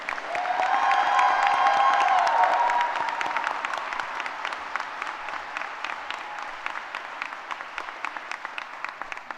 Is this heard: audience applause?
yes